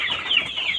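Two-month-old chickens in a poultry farm house, a dense chorus of high clucking and squawking from many birds close by, continuous through the short stretch.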